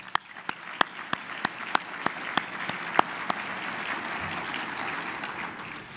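A small audience at a downtown business association gathering gives a round of applause, a sparse run of distinct claps at first that swells into steady, moderate clapping.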